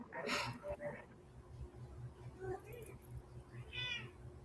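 A cat meows a few times, close and fairly quiet, its short cries rising over a low household hum while people talk nearby.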